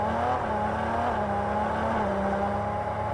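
A Ferrari supercar pulls away slowly with a loud, steady engine drone that rises slightly in pitch, heard close and continuous without any talk.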